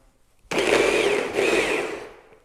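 A blender purees mango with lime juice, cutting in loudly after a half-second of quiet as a steady, high whirring roar that briefly dips midway and then slowly tapers off.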